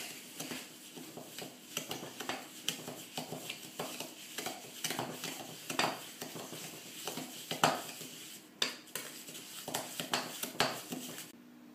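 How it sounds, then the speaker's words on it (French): Sugar is stirred into pineapple upside-down cake batter in a bowl, soft irregular scraping and clinking of a utensil against the bowl, quiet and close, with no talking. "Ajoutez le sucre, puis mélangez bien afin que la préparation soit onctueuse."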